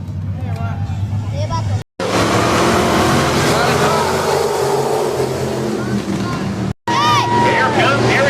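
Stock cars from the Perfect Engine Pro Straight Stockers class race an 8-lap heat on an oval speedway, engines roaring loud and sustained with passing whines, under crowd chatter and announcer talk, with two brief cuts.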